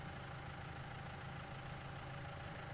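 Tractor in Farming Simulator 19 idling steadily, a constant low, even engine drone with no change in pitch or level, heard close and alone.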